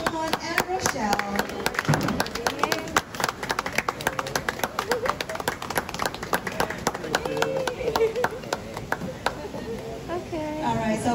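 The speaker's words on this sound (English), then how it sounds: "a big round of applause for Johan and Rochelle" Wedding guests applaud the newly married couple with a long run of sharp, steady clapping from a nearby crowd, with voices talking over it throughout.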